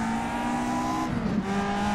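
Race car lapping in a racing sim on an open sim wheel, a steady, loud engine drone held at constant pitch with a brief dip and shift midway, close and continuous.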